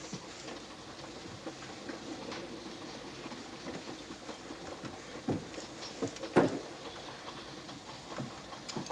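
A train runs on rails with a steady, close rumble, light rhythmic clicking and a few sharper clacks toward the end, with no voices over it.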